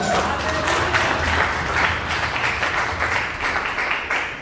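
Dense, steady clapping from a church congregation fills the whole stretch, with a faint voice or two mixed in underneath.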